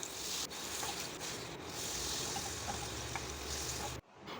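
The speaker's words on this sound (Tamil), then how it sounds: "இப்போ நம்ம அப்பளெல்லாம் பொரித்து எடுத்துக்கலாம்" Appalam (papad) frying in hot oil for a rasam and moong dal radish kootu lunch: a steady, dense sizzle and hiss fills the clip close up, with a few faint crackles, cutting off abruptly near the end.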